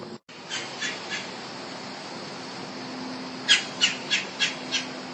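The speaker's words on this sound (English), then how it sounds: "That's the red-bellied woodpecker calling." Red-bellied woodpecker calling in a November garden, with two faint distant calls early, then a close series of five rolling, evenly spaced calls over a quiet background.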